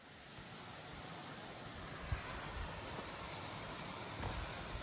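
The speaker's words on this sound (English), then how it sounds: "These waterfalls are quite a surprise." Beede Falls in New Hampshire sends out a steady, faint rush of falling water, a broad, even wash of noise with a few soft bumps and no talking.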